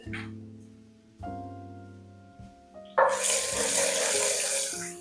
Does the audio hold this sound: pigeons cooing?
no